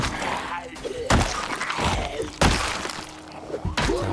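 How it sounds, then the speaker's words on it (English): Glass smashing in the modded survival game Project Zomboid: three sharp, loud crashing impacts spaced about a second apart, with rumbling game noise and faint shuffling in between. "So we've heard quite a bit of smashing glass."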